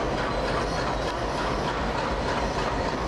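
An ALCO diesel locomotive departs Ernakulam Junction at night, heard as a steady rumbling roll of rail cars with a continuous low engine drone and faint clatter, alone and fairly loud throughout.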